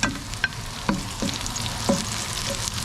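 Onion added to garlic and sautéed in a pan for chicken and pork adobo; a steady close sizzle with occasional scraping stir noises from a utensil, no speech.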